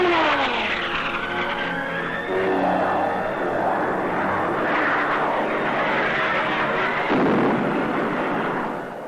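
American and Vietnamese military planes sweeping low over the Dong Hoi area, loud roaring jet engine passes rising and falling in waves, one after another, with no voices.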